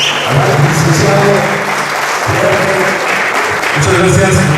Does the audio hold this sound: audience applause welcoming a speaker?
yes